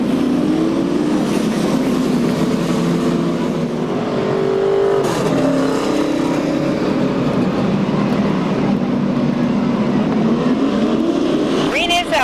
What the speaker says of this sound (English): we're underway once again as the 46 of Chad Chase comes off that fourth turn